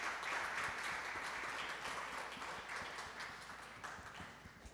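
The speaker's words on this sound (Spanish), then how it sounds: "quisiera pues pedir un aplauso también para nuestros queridos ponentes" Audience clapping for the speakers at a panel talk on Maya culture, a fairly faint, steady patter of hands in a room that fades gradually.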